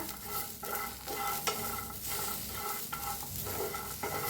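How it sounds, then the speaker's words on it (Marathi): Ingredients dry-roasting in a pan without oil, with repeated close scraping and stirring strokes over a soft, steady crackle. "असंच भाजूया बिन तेल वरता"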